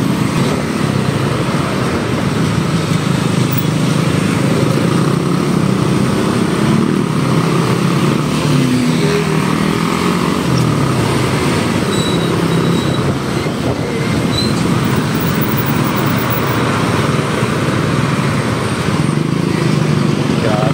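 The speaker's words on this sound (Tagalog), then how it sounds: "Grabe traffic sa ano, sa IPS." Heavy road traffic of cars, trucks and motorcycles on a congested city road, a dense continuous rumble of engines from a riding motorcyclist's point of view, with a voice over it.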